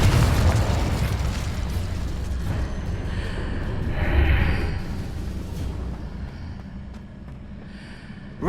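Spell blasts from Confringo and Incendio in Hogwarts Legacy on PS4: a loud, fiery explosion that bursts and booms, then rumbles and crackles as it slowly fades, with a second burst swelling midway.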